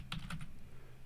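Fingers tapping out a name on a computer keyboard, a quick close burst of three or four key clicks followed by a pause and one last faint tap.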